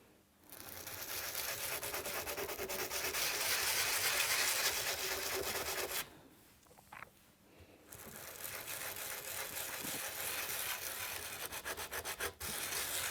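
Sparkle medium is rubbed through a stencil with a brush in all directions, giving a continuous close scrubbing sound that pauses for a moment, then carries on at a softer, brushier level.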